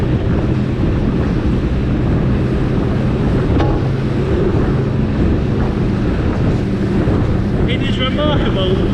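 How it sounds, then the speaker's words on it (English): A Saxdor 200 Sport motor boat pounding through a nasty chop at around 40 knots, loud continuous engine and hull roar with heavy wind buffeting on the microphone and water rushing past. "This is a nasty little chop, this. And we're going through it at 40 knots,"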